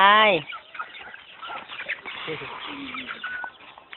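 A sharp squawk opens the clip, then chickens cluck quietly at close range amid soft background rustling.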